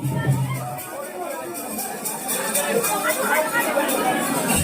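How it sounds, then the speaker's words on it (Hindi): A large crowd gathered at a village festival akhada, a dense murmur of many voices with chatter and bustle filling the space, while someone nearby talks over it. "देखो कितना भीड़ है देखने वाला मन के"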